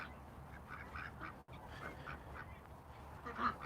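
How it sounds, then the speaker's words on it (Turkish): Ducks quacking in a farmyard beside a pond, a steady scatter of calls repeating through the whole stretch with a brief dropout partway and a slightly louder burst near the end. "Ördeklerimiz burada."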